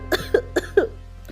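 A person coughs in a washroom, four sharp, loud coughs in quick succession, close and alone.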